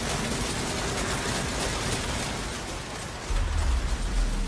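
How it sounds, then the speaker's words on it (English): A Skaven Rattling Gun weapons team in Total War: Warhammer 2 fires its rotating rapid-fire gun, making a loud, dense, unbroken mechanical rattle, with heavier low thumps near the end. "Rattling guns are heavy damage dealers, which also suppress their targets, slowing their movement"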